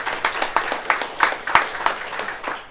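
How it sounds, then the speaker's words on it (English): A small audience claps at a downtown community event, a light patter of hand claps in a loose rhythm, fairly near and moderate in volume, with no voices over it. "So a round of applause for Craig Poole."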